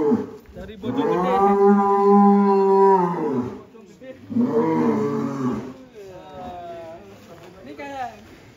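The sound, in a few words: large cattle mooing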